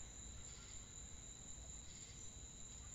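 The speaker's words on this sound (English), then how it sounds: "It's like crickets chirping." Eerie cricket-like chirping in the video game Vincent: The Secret of Myers, a faint, steady high-pitched pulsing drone over a low rumbling background, with no voices.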